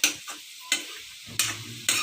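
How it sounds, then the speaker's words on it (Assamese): Potatoes frying in a pan give off a soft sizzle, punctuated by several sharp scraping stirs of a spatula, close and without talk. "আলু ভাজিয়ে বনি আছে"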